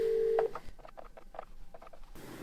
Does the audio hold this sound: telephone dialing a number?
yes